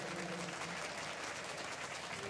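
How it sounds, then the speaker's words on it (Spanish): Audience at a photography contest award ceremony in Santiago applauding a prize winner, a continuous, even crowd clapping at moderate loudness with no pause. "Un aplauso, por favor"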